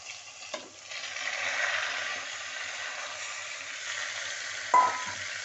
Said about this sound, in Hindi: इसको तेज आंच पे फ्राई करना है